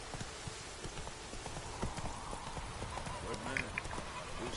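Hooves of the horse Roach clip-clopping at a run in The Witcher 3, a steady galloping beat with ambient noise like rain, while a voice speaks over it.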